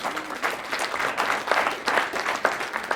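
An audience at a high school hall of fame ceremony claps steadily, a dense, even wash of applause from many hands in a hall, moderately loud and continuous throughout.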